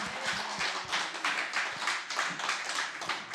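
A church congregation claps together during a Sunday worship service, giving a run of rhythmic, fairly close claps at a moderate level.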